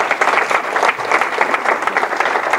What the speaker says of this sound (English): So give them a round of applause too.